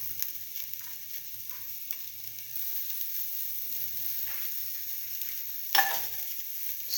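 Garlic frying in a pan for a split mung bean tomato stew, a soft continuous sizzle close by, with a few stirring scrapes and a sharper clatter near the end, no voices.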